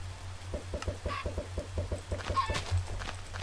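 A flock of blocky chickens in Minecraft gives a steady patter of short, evenly spaced clucks, with a couple of higher squawks rising over the run, close and clear with no talking.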